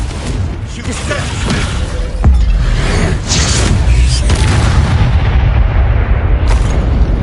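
A magical fire blast spell erupts in the Hogwarts Legacy video game, a loud booming explosion with a sharp impact about two seconds in followed by a sustained roaring rumble, with spell effects layered over game sounds.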